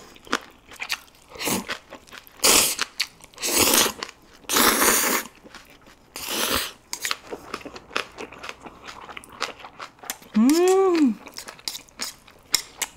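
Close-up crunchy bites and wet chewing of a wrap of spicy braised beef feet with boiled squid, in loud bursts separated by quieter mastication, with a short hummed vocal sound near the end.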